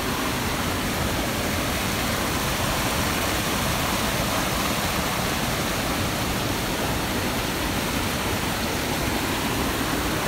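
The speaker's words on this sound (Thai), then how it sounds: "นี่เรามาเจอน้ำตกอีกจุดหนึ่งจุดที่น้ำตกผ่าน" Luang Siriphum waterfall thunders as a loud, unbroken roar of falling water, close by and steady throughout with nothing else heard.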